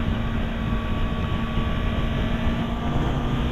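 A 2015 Yamaha R3 motorcycle engine droning steadily on a test ride, a loud, sustained tone with wind rush and no distinct gear changes.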